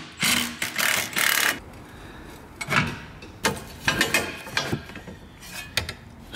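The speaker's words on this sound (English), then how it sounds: "I'm just going to take the drop link bolt out now." A hand ratchet clicks in quick bursts while loosening the drop link bolt on a VW Golf R Mk8 suspension, with several close, rhythmic ratcheting runs separated by short pauses and no talking.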